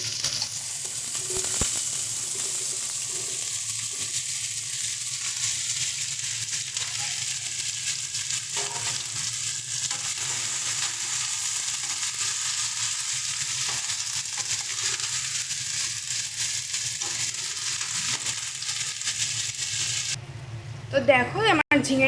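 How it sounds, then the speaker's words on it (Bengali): Ridge gourd sizzles steadily in hot oil with cumin seeds, a continuous broadband frying hiss lasting throughout with light stirring clatter, ending in a brief louder burst. "তেল আমার গরম হয়ে গেছে, এবার আমি ফোড়নের জন্য এখানে জিরে ফোড়ন দেবো। এবার ঝিঙেটা দিয়ে দেবো।"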